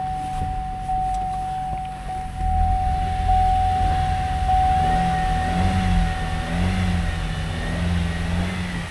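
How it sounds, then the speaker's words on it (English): An old pickup truck engine idles and revs nearby with a thin steady whine riding over the rumble, rising and falling a few times without talk. "Motor sounds okay. A little whine to her."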